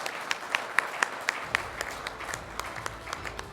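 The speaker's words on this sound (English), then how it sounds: "let's have a round of applause for Raju Rawat" Modest applause at an award event, with a few sharp, distinct claps standing out early over a thinner smattering that continues quietly throughout.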